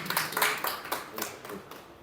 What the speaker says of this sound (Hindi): नसीम भाई के लिए बहुत ज़ोरदार तालियां